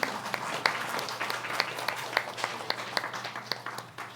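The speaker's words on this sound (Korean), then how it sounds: "우리 옆에 있는 우리 박수 칠까요?" A youth church congregation at a Sunday worship service claps at modest volume, with scattered individual hand claps standing out over a soft, uneven bed of clapping, and no clear speech.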